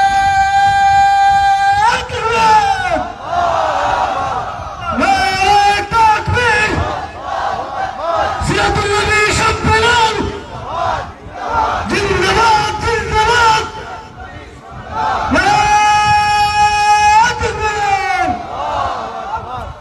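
At a religious sermon, a large crowd answers a preacher by roaring the Nara-e-Takbir chant in loud, unified shouts, with the preacher's amplified, echoing voice leading between the bursts.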